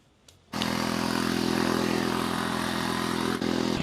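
Tractor-mounted back rotary tiller with a differential gear, running in a field: a loud, steady mechanical roar that kicks in abruptly after a brief quiet start and drones on evenly and close.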